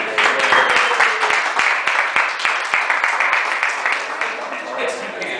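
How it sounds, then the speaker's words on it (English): A room full of people clapping steadily, with individual sharp claps standing out against the dense applause. "Can we get a round of applause for them?"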